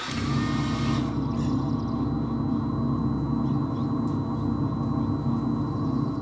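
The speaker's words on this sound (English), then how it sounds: "And here's the noise this car makes in reverse at low speeds." Reversing slowly, an Audi RS e-tron GT electric sedan gives off its low-speed warning tone, a constant droning synthetic hum with a faint pulsing texture, heard up close without a break.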